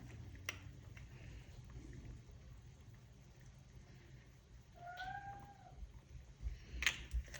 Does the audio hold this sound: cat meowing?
yes